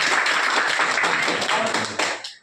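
At a National Mathematics Day event at K.S. College Seraikella, an audience gives dense, loud applause for the newly appointed acting principal. The clapping fades out after about two seconds.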